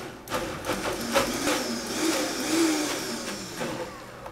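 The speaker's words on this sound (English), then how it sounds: "But the other thing is to just pulse your blender." A blender pulses zucchini in a run of short, uneven bursts of whirring motor and chopping, moderately loud and close, with no talking.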